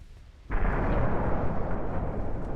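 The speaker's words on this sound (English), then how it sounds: "There's torpedo detonations." Torpedo detonations in the naval game Ultimate Admiral Dreadnoughts: a sudden loud blast sets in after a brief quieter moment and holds as a dense, rumbling roar to the end, with no talking.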